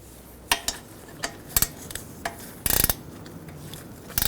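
A ratchet snugs down a bolt on a Ford Edge 2.0L dual radiator and condenser fan assembly: sparse sharp clicks, then a quick rattling burst of ratchet clicks near the end, close and distinct in a quiet workshop.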